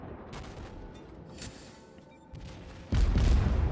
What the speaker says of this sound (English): So I decided to put some fire into this Miyogi